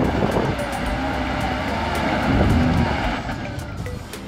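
A heavily loaded truck on steel wheels, carrying wood, pushes at fairly high speed through muddy, watery terrain, giving a continuous loud rumbling roar with sloshing, churning texture.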